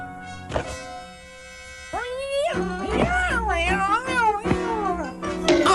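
A cartoon kitten meows loudly in a string of rising, wavering cries, with a sharp thunk near the start and further bumps and thumps between the meows.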